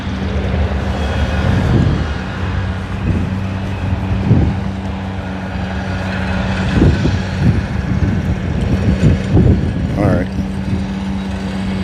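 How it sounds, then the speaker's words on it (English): Outdoor wind on a morning walk, gusting and buffeting against the microphone in rumbling bursts, with a person talking intermittently. "Started out with hardly any wind, now it's like picking up."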